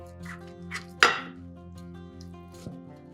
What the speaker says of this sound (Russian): Каждый рулет разрезаем на 3 примерно одинаковые части.